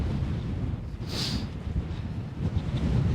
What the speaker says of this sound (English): the old wind's not giving up.